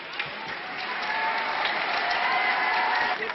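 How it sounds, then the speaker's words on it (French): A courtroom crowd greets a verdict of acquittal with thunderous applause, dense clapping that builds and holds steady, with a faint crowd murmur mixed in. "Un tonnerre d'applaudissements accueille le verdict."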